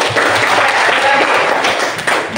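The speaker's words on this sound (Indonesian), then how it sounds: "Tepuk tangan buat dia ya." A small group claps for a student during a classroom activity, a brief, loud, dense burst of applause close by that fades toward the end.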